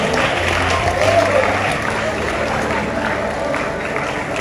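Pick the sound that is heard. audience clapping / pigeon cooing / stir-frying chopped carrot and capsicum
audience clapping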